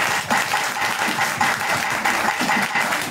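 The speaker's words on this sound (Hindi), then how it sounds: "आप लोगों के लिए जोरदार ताली बजाना" Audience clapping loudly during a Srimad Bhagwat week-long religious discourse in Mohan Nagar, Ghaziabad, a dense, steady burst of many hands filling the whole moment without talk.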